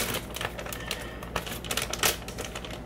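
A TenTen handheld bag sealer is drawn along a plastic bag, making a close, continuous crinkly crackle with rapid clicking bursts and rustle for about three seconds, with no talk.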